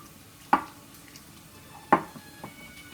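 Utensil stirs and breaks up tahini sauce mixed with sesame oil in a bowl, giving two sharp clinks about a second and a half apart with faint scraping between, close and moderately quiet.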